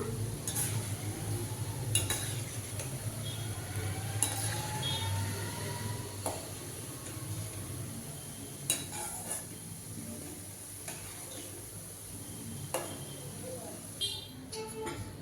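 Boondi for laddu fries in hot oil with a soft, steady sizzle, broken by occasional clinks and scrapes of a metal ladle against the pan. The sound is fairly quiet and close, with no voices.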